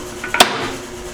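A hammer gives a center punch a single light, sharp tap while marking hole positions on a 2x72 belt grinder upgrade part, preceded by a couple of faint ticks, close and clear in a quiet shop.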